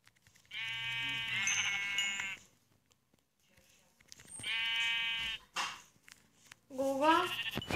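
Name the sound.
sheep bleating in the video game Minecraft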